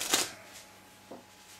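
A standard deck of playing cards, all backs identical, is shuffled by hand in a close-up magic session, giving one quick riffling burst followed by two faint soft flicks, quiet and near.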